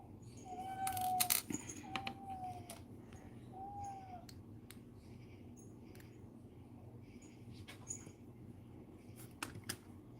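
A domestic cat gives three short meows at night early on, moderately close and fairly soft. Scattered clicks and taps of pliers working copper jump rings for a chain-link necklace follow over a low background hum.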